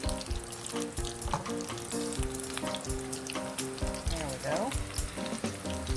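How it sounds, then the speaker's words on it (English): A corn tortilla taco frying in hot corn oil, a loud crackling sizzle with busy popping throughout, close up, and a brief spoken word over it. "I'm going to just, put my taco in the corn oil."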